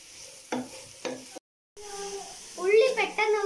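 Sliced large onions frying in a pan are stirred with a few sharp scraping strokes, followed by a brief silence and then a voice talking over a soft sizzle.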